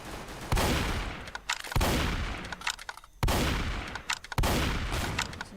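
Heavy gunfire in the Roblox shooter Strucid: four loud, evenly spaced blasts, each trailing into a decaying rumble, interspersed with smaller clicks and rattles, close and dominant with no talk.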